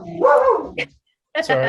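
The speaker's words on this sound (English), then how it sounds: "That was my dog." A pet dog gives a single short bark amid a person talking indoors, sharp and close, followed by more speech.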